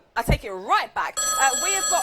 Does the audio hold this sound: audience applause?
no